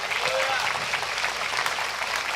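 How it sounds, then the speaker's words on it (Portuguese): A church congregation claps in brief, dense applause, with voices mixed in over the clapping. "Aleluia, aplauda o Senhor."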